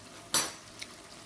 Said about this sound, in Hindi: अब इसमें मैं हरी मिर्च डाल देती हूँ